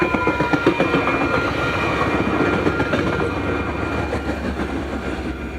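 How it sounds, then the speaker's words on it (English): FrontRunner commuter trains pass a railroad crossing on the Salt Lake subdivision, with loud, close rolling rumble and rhythmic clickety-clack of wheels over rail joints sustained throughout. "The first two trains were frontrunners, with 120 leading the southbound"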